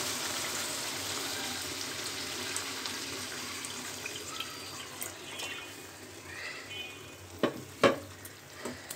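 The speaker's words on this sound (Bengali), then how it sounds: "আমি ঢোলের জলটা দিয়ে দিচ্ছি" Water poured into a hot pan of masala for a rohu fish curry with potato and pointed gourd, a steady broadband sizzle and hiss throughout, ending with a few sharp clinks and splashes near the end; no voices.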